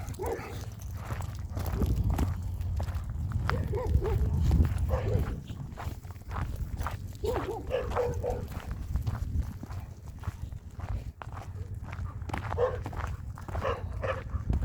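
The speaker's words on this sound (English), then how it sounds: "These dogs going crazy." Several German Shepherds barking and growling while out on a walk, barks coming in irregular bursts over footsteps and background noise, with some voices faintly audible.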